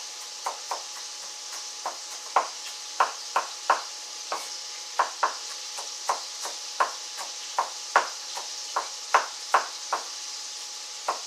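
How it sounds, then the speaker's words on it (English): A knife taps steadily on a cutting board while mincing food, sharp close chops in an uneven rhythm over a low kitchen hiss, with no talking. "start mincing this up"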